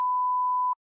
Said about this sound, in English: Sorry, that was my phone.